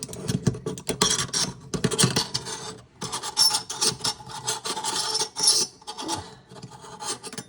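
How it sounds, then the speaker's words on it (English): A food catcher's edge turned in the grooves of a kitchen sink drain rim, giving a raspy, scraping grind in uneven bursts with short pauses, close and fairly loud, no talking. "I'm going to put it in the grooves and just turn."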